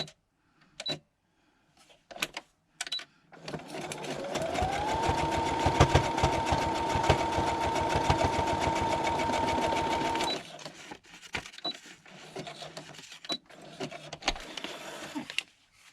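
A sewing machine zigzag-stitches lace laid on a fabric piece for a traveller's notebook, running steadily for about six seconds between scattered handling clicks and quiet pauses, close and fairly loud.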